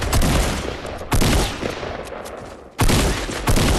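Dense gunfire from a video game arrives in loud, sustained volleys of rapid shots. A brief lull separates the bursts before the firing resumes.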